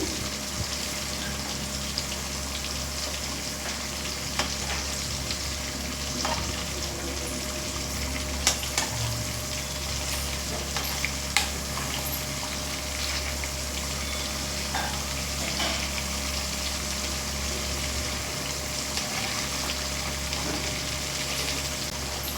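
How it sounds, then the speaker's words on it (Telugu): Fish pieces fry in a pan before going into a curry, giving a faint, constant sizzle and hiss throughout with a few soft clicks from turning. "ఫిష్ని జస్ట్ నార్మల్గా ఫ్రై చేసుకుంటే చాలు"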